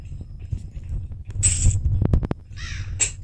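A crow caws harshly a couple of times in the video game Granny, close and loud, with a few sharp clicks between the calls.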